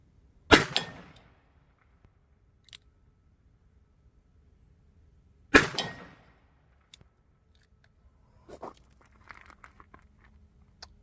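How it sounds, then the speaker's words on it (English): Two sharp, loud gunshots from a Smith and Wesson 10-10 bull barrel revolver at an outdoor shooting range, spaced about five seconds apart, each with a short decaying echo, followed by faint clicks and handling noises. "All rounds fired."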